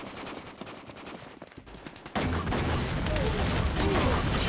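Video game gunfire from Quantum of Solace: scattered quieter shots first, then a sudden loud stretch of rapid automatic fire with rattling bursts and ricochet-like whines, close and sustained.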